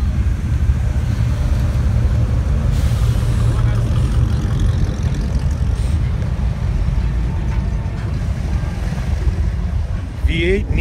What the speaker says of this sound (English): Look at the big old dump truck down there.